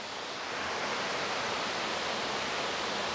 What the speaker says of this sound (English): it's a very beautiful waterfall. Two levels coming from the top. A lot of little cascades over the rocks.